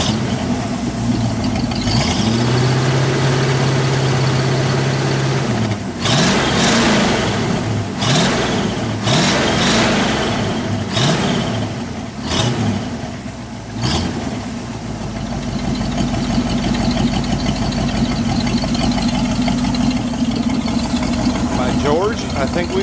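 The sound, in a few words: International Travelall engine running and revving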